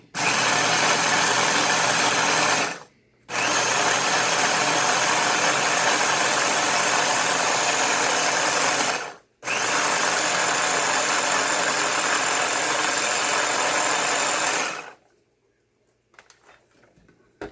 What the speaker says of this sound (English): I'm going to go ahead and put it in the food processor and let it grind up